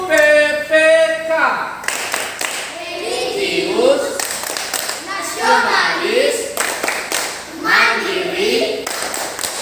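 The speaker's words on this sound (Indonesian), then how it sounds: "Tepuk PPK." Hands clap in a rhythmic classroom chant pattern as a class of children and adults perform a PPK clap, with chanted voices running over the claps throughout.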